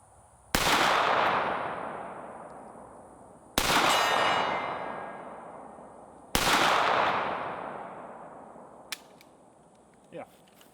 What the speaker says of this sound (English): All right, we got the USP. 3 rounds, then 10.